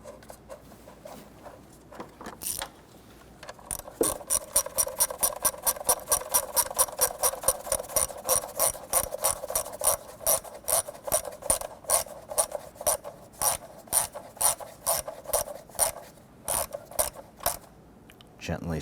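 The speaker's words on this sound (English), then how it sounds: "Install the bolt for this portion of the lower cover." Ratchet wrench installing a bolt on the lower timing cover of a 1992-1996 Toyota Camry 2.2L four-cylinder, a rapid steady clicking that runs for several seconds and then breaks into shorter bursts of clicks, close up.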